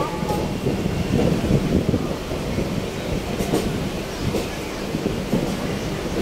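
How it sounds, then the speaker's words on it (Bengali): A Vande Bharat Express train rolls into Howrah station with a steady rumbling roar and faint wheel clatter, close and loud, while a voice talks faintly underneath. "ট্রেন ঢুকছে"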